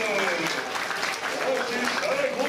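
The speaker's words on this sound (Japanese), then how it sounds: "みんな若菜に応援の拍手だ。" Audience clapping in support of Wakana at the Turtle Talk show at Tokyo DisneySea, a continuous patter of applause running under a voice speaking over it.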